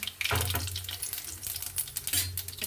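Cumin and mustard seeds sizzling in hot oil, bursts of crackling and hissing with a couple of stronger low surges, close up and brief with no talking.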